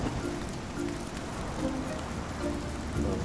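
Steady rain falling in the survival video game Icarus, a constant close hiss of drops on surfaces, with no talk over it.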